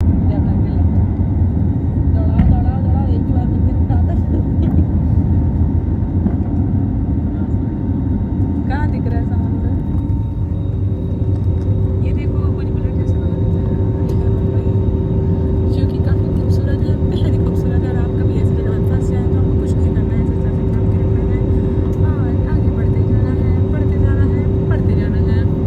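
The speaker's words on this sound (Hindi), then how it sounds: "तो हमारी फ़्लाइट उड़ान भर चुकी है।" Cabin noise aboard an airliner just after takeoff on an international flight to Dubai, a loud, constant low engine roar and airflow rumble filling the whole stretch, with faint scattered clicks and thumps inside the cabin.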